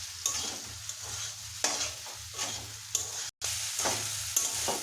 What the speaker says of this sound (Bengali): সবগুলোকে সবজি সহ ডালিয়াগুলোকে আমি খুব ভালোভাবে মিশিয়ে নিচ্ছি।